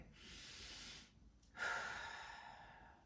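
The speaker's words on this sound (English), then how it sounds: "So take some nice deep breaths in." Slow, deep belly breathing: a long airy inhale, a brief pause, then a fuller exhale, heard close and quiet with no talking.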